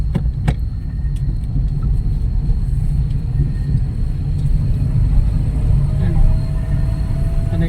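A vehicle engine-braking down the Atimonan zigzag mountain road at night gives a steady loud low rumble throughout, with occasional faint clicks over it.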